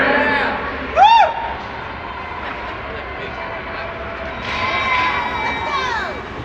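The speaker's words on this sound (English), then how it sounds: "Let's cheer them on, everybody." A crowd in a Milwaukee arena cheers during a race, a broad, steady roar with a few whistling sweeps rising and falling over it, swelling slightly near the end.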